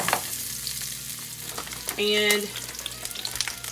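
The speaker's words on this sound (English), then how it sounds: "And now I've got some bacon grease ready, and I'm going to add some breaded okra." Breaded okra dropped into hot bacon grease, a close, crackling fry with a brief louder burst of sizzling and a clink midway, and a short spoken word at the start.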